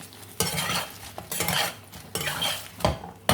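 A spoon scrapes and stirs potatoes and eggplant coated in spices, amchur among them, in a pan, three or four distinct scraping strokes, close and fairly soft, with a faint sizzle and no talking.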